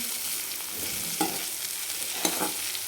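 Mustard greens sabji mixed with coarse peanut powder is stirred and sautéed in a pan, giving a steady sizzle broken by a few louder scraping strokes, with no talking.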